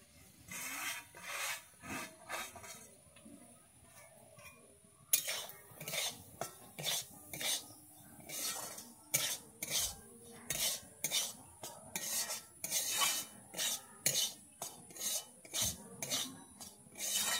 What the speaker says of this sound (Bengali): আমার ঘিটা গরম হয়ে গেছে, এবার আমি সুজিটা ভেজে নিচ্ছি।